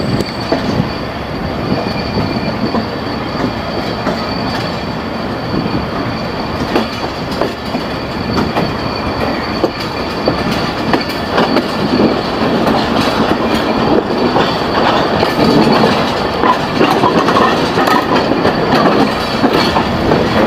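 The Shah Latif Express passes close by, its wagons rumbling loudly with rhythmic clickety-clack of wheels over rail joints and occasional squeal, sustained throughout without talk.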